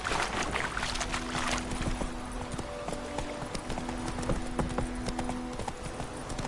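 Horse galloping in the video game The Witcher 3: continuous clip-clop hoofbeats in a quick steady rhythm under a background hum, with no talk.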